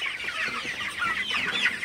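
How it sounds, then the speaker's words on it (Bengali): A shed of 27-day-old broiler chickens, about 1.8 kg each, clucking and chirping together in a steady, busy chorus heard nearby. "এই সেটের ব্রয়লার মুরগির বয়স হচ্ছে 27 দিন"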